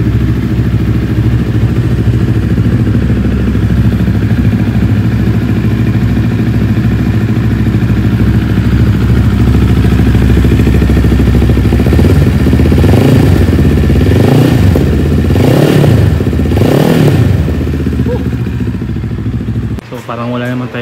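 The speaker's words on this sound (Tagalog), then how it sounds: "It's a stock exhaust." A Bristol Bobber 700cc motorcycle on its stock exhaust idles loudly, then revs in several rising bursts near the end, steady and close throughout, with people talking over it.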